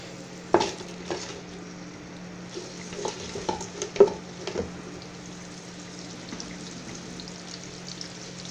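Onion frying in a pan with garam masala, cardamom and cinnamon, a low steady sizzle broken by a few sharp utensil scrapes and clinks, fairly quiet and with no talking.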